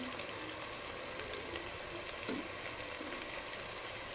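Asafoetida sizzling in hot oil for a Tamil Nadu style potato tomato curry: a steady, close, hissing fry noise with bright crackle, continuous throughout at moderate level, no voices.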